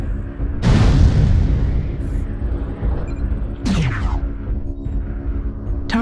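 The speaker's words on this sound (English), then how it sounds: "Artillery strike online." Artillery strike explosions in a combat video game: a heavy boom bursts in near one second and a second blast follows near four seconds, each trailing off over a continuous low rumble and hum.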